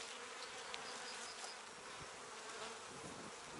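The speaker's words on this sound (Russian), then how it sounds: "Видите, пчелы есть." Bees buzzing steadily around a beehive frame during hive inspection, a dense continuous hum close by with no talking.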